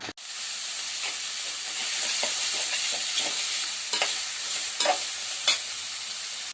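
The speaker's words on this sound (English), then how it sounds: "we will add the cooked botis that we kept aside and we will fry it" Cooked boti (tripe) frying in warm oil in a pan for village-style boti gojju, a steady hissing sizzle with a few sharp stirring scrapes toward the end, close and without talk.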